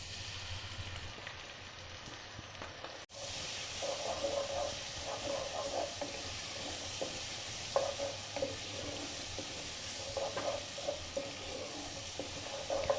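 Ginger garlic paste frying for chicken keema, a steady sizzle and hiss running throughout with stirring and clinks of a utensil against the pan, fairly close.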